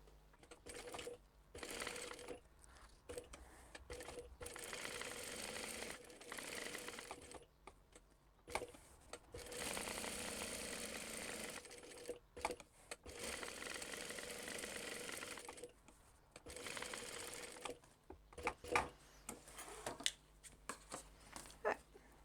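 A sewing machine stitches a fabric crossbody bag in several long runs of steady, close whirring, broken by short pauses and clicks. The runs are quiet, with no talking.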